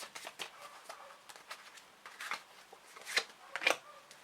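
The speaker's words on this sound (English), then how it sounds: "we'll pull some more cards" Tarot cards are shuffled and drawn by hand, making soft, close riffling and flicking sounds in irregular bursts, quiet overall with a few sharper snaps.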